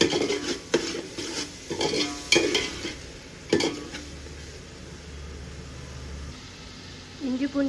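Biryani ingredients, including green chillies, are sautéed in a pot; a spoon scrapes and knocks against the metal in several distinct strokes over a soft sizzle, followed by a quieter stretch with a low hum.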